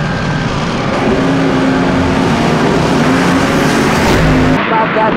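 An AA/fuel dragster runs at an NHRA Heritage Series March Meet drag race, heard as a loud, sustained engine roar that fills the whole stretch. It holds steady, then cuts off sharply near the end.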